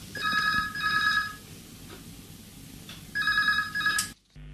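A telephone rings on an FM radio call-in programme: two bursts of electronic double-trill ringing, a pause, then another pair of rings cut off abruptly.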